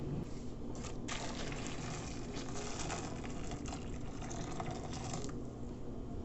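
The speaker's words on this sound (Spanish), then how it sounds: "vamos a colocar las uchuvas en agua caliente por un rato" Hot water pouring over cape gooseberries in a home kitchen, a continuous close gushing and splashing stream that holds steady for several seconds, with no talking.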